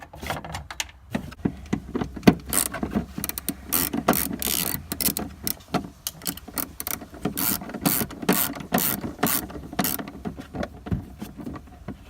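Ratchet working a 10 mm bolt on the battery vent of a 2003–2009 Toyota Prius: a rapid run of close, dry clicking pawl strokes in bursts, loud and alone.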